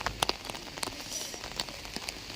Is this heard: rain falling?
yes